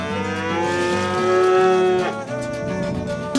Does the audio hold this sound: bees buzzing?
no